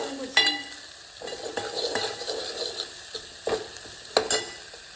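Manchow soup ingredients fry in a pan with salt, giving a light sizzle broken by sharp scrapes and clatters of a spoon against the pan, close and fairly quiet.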